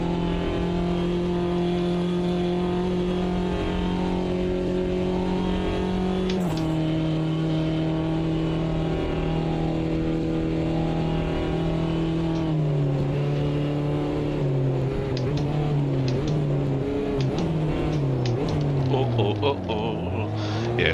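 A race car engine in a video game, on the 1988 Hockenheim circuit, in poor health, drones continuously with shifting pitch as it accelerates and changes gear, loud and steady throughout.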